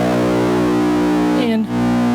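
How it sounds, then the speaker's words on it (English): Electric guitar run through a Wampler Dracaris distortion pedal, a thick, saturated sustained chord ringing loudly and steadily, then briefly shifting pitch near the end. "it's just my guitar going through my Wampler Dracaris distortion pedal"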